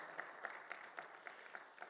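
Applause for the Lord during a Spanish-language church service, a steady patter of clapping from a congregation with rhythmic accents, fairly faint and distant.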